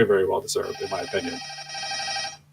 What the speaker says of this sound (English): I do apologize that my phone is ringing in the background.